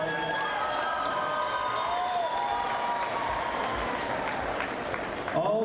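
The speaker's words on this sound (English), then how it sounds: "Again, another round of applause for both these fighters" A fight crowd applauds and cheers both fighters after a three-minute-round bout, a steady wash of clapping and crowd noise with faint tonal sounds drifting through, and no voices standing out.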